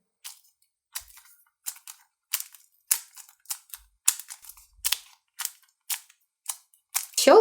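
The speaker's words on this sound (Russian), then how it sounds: "Ну что, попробуем, как она щелкает." A pizza-shaped Simple Dimple pop-it fidget toy is pressed over and over, giving crisp, close popping clicks at a steady pace of roughly two per second, with no voices.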